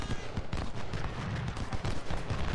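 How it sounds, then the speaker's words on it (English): Dense battle din from the Civil War strategy game Ultimate General: Civil War, with repeated booming artillery fire and crackling volleys overlapping continuously, loud and close throughout. "Artillery."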